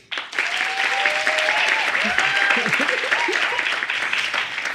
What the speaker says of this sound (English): we're going to clap really loudly for them